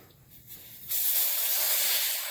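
Air suddenly bursts out of a riding lawn mower tire valve as a loud, close, steady hiss that holds for over a second and then slowly tapers.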